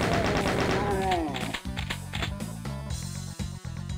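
Chain gun in Doom 2 firing in steady rapid bursts on a subway level of a megawad, loud and close, with game music running underneath and a brief pause near the middle.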